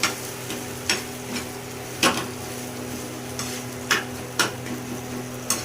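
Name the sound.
stir-frying amboli flower chutney in a pan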